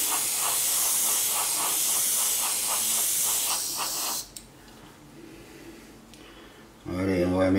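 An airbrush sprays a base coat onto a model aircraft wing in a loud, airy hiss for about four seconds, pulsing in short bursts. A quiet pause follows, then a voice starts talking.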